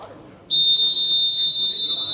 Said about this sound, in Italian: arbitro fischia, tutti in campo